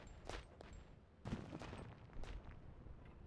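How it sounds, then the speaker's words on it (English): Artillery strike barrage in the WW2 real-time strategy game Platoon Commander: several muffled booming impacts land a second or so apart, fairly distant and moderately loud, with no voices over them. "I'll go ahead and use our artillery strike since these guys are shooting at us from so far away."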